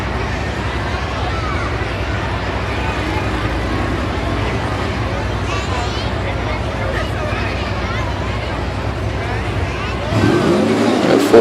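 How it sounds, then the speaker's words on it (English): Full-body Ford tough trucks race on a dirt track, their engines a continuous droning roar from a distance under crowd noise and an announcer's voice, with a louder, closer surge near the end. "A full body Ford in the near lane."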